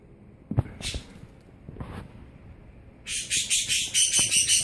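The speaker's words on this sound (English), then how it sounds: "Bird." A bird gives a couple of brief calls, then a loud, rapid series of repeated chirps close by, with faint handling noises around a pet prairie dog.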